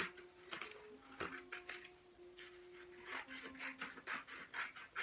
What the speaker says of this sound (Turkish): Ortaya kadar kesiyorum.